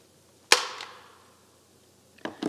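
A stapler snaps shut on a paper band once with a sharp crack and a brief tail, then a couple of quicker, lighter clicks follow near the end, close and with no talk.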